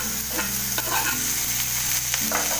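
Coriander and tomato stirred into onions frying in a pan, with a steady sizzle under several scraping spoon strokes against the pan.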